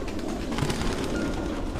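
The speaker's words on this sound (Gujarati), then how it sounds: "અહીંયા મેં તમને કબૂતરો દેખાડ્યા તમે જોઈ શકો છો આખે આખું એ કબૂતર ઘર છે" Pigeons coo softly and continuously in a shelter for injured and sick pigeons, a steady low murmur of many birds close by with no talking.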